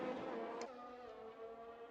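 A Ferrari Formula 1 car in the F1 2021 racing game at the Russia round, heard on board as a steady high-pitched engine whine that drops in pitch briefly, then holds on at a fairly faint level.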